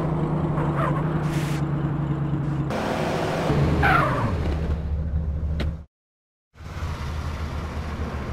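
A car drives in the video game GTA San Andreas, its engine droning steadily and loudly with rising revs. It cuts to silence briefly, then the motor hum resumes.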